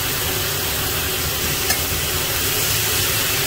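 Diced potatoes sizzling in spiced oil in a pan for an Indian aloo bhaji, a steady close crackle and hiss that runs throughout with a brief stir at one point.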